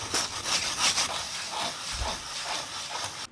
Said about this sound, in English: I'm going to take my wooden float now.